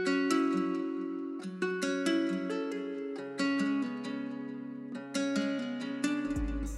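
A simple plucked guitar/flute sample melody treated with delay, reverb, compression and EQ, rising and falling in short repeating phrases with echoing tails, ending on a deep low hit.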